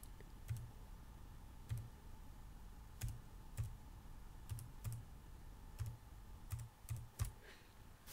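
Typing on a computer keyboard while entering a password during an email sign-up: sparse, irregular key clicks with pauses between them, close and quiet, no voices.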